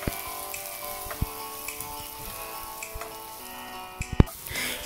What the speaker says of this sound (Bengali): এখানে আমি যে পেঁয়াজগুলোকে তেলের ভিতরে ভাজতেছি